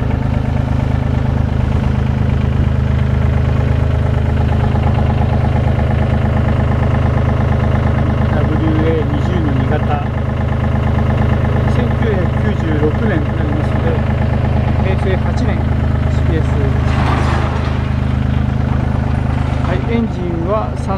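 A 1996 Komatsu WA20 wheel loader's 1,200cc, 22-horsepower diesel engine idles steadily and loudly throughout, a low constant rumble with a voice talking over it.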